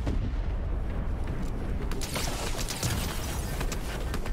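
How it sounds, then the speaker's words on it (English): Gunfire in a Fortnite match, a dense, loud wash of rapid shots and mechanical clatter that continues for several seconds without pause. "someone is shooting"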